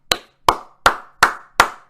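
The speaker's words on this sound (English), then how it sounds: "Let's clap it up, y'all." Five sharp claps ring out alone at an even, steady pace, each one crisp and close with a quick decay into silence.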